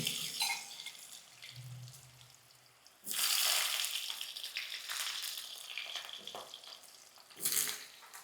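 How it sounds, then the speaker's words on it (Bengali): Potato pieces dropped into hot oil, a loud burst of crackling sizzle that then settles into a fainter steady frying hiss, with another bright surge near the end. "আলুগুলোকে আমি ভালো করে এই তেলের মধ্যে ভেজে নেব"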